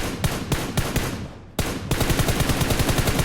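Rapid bursts of automatic gunfire spraying at a player in PUBG Mobile, loud and close: a few separate bursts, a brief pause, then a sustained stream of fast repeated shots.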